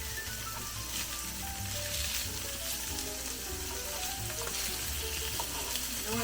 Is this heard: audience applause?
no